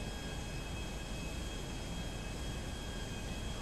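A steady, loud airplane engine drone in Grand Theft Auto fills the moment with a constant, even roar and no breaks or voices.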